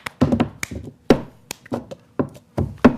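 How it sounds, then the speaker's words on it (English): Rhythmic claps and cup taps from the cups game, a series of sharp, close hits in an uneven pattern with short gaps between them and no talking. "Just clapping along there."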